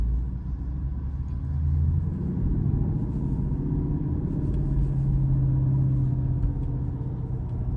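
A manual stick-shift car coasts in first gear through a turn, its engine a steady low rumble with a slight rise in pitch midway, heard from inside the cabin without speech.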